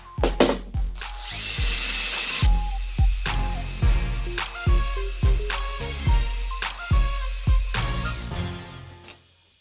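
A power tool scuffs and cleans up an old metal part with faded lettering during a chain axe build, giving a loud rhythmic series of bursts that rise and cut off about once a second.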